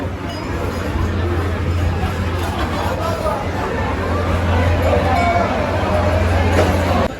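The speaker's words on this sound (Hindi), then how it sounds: "अभी हम आए हैं लंगर चखने और जो कि है बहुत ज़्यादा भीड़" A large, dense crowd fills the Golden Temple langar in Amritsar with a steady wash of overlapping voices, scattered metallic clinks of dishes and a low continuous hum, all close and constant.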